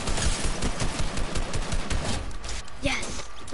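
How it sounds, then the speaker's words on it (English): Rapid bursts of video game gunfire crackle steadily through late-night gameplay, dense automatic shots fading toward the end, with players' voices faintly mixed in. "He's shooting at me because I'm shooting at him."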